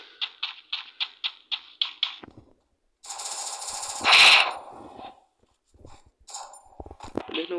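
Video game gunfire: a rapid string of about eight evenly spaced shots, then a pause, a longer noisy burst of firing, and a few scattered later shots, moderately loud with no talk.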